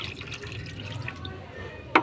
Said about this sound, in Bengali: এবার যেটুকু বালতি ফাঁকা রয়েছে সেটুকু আমি জল দিয়ে ভরাট করে দিচ্ছি